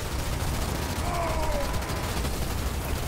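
Hornet aircraft in the Halo Wars 2 video game firing their guns: a dense, continuous rattle of rapid gunfire amid battle noise, loud and sustained for a few seconds.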